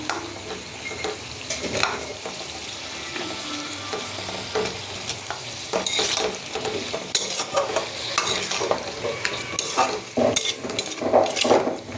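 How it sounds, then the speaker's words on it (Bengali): Dried chapa shutki and flat beans sautéing in a hot pan: a steady sizzle with repeated stirring and scraping of a utensil against the pan, close and continuous, with no talking. "আমি সটে করে নিচ্ছি খুব করে সটে করতে হবে"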